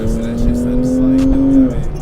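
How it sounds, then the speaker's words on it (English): A Porsche 911 996 with an aero kit, driven on the road, revs up as it downshifts into first gear; a rising engine note swells under cabin noise and then drops away. "When you shift down in the first gear, you get that big, like,"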